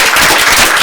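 Brief burst of audience clapping at a community web launch, a dense, loud patter of many hands lasting under a second with no speech.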